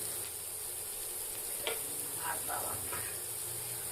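Cumin paste, turmeric powder and ginger paste fry in a pan, a quiet steady hiss with a few brief scraping strokes of a spatula partway through, no talking.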